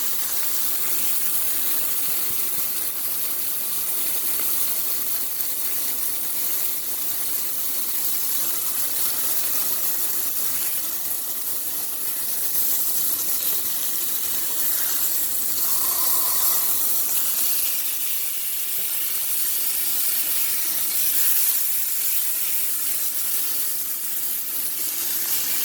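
Meat sizzles as it cooks in a pan for tacos, a steady loud hissing crackle that holds unbroken with no talking.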